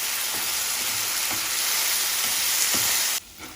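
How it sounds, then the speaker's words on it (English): Chopped kimchi mixture with soy sauce and rice vinegar sizzles and fries steadily in a pan while being stirred, a loud, continuous hiss with faint scraping that cuts off abruptly near the end. "And we are going to stir it and cover it for 2 to 3 minutes."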